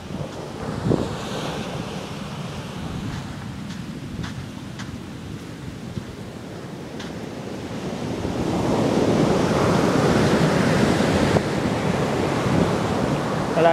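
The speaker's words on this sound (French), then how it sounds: "Voilà, là, les vagues se forment assez rapidement" Ocean waves surge and break in a steady wash of broadband roar, building louder and fuller in the second half, with wind noise on the microphone.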